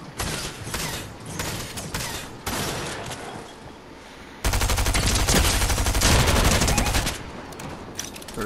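Shotgun fire in the video game Fortnite: loud bursts of rapid gunshots come in quick succession, with a heavy, sustained volley in the middle and no talk over it.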